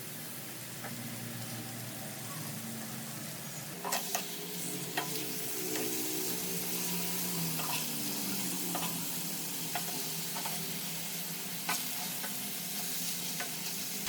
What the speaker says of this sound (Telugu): కొరమైన ముక్కలో ఒక్కోటి ఒక్కోటి వేసేస్తాం